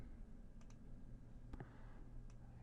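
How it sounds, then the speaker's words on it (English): Computer mouse clicks while working in a data program: three faint, sharp clicks spaced roughly a second apart over a very quiet background. "I'm going to click Apply."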